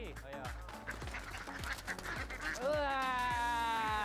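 Ducks quack in a pen at a farm in Klaten, Central Java, in short repeated calls. People talk loudly over them, and a longer honking burst comes toward the end.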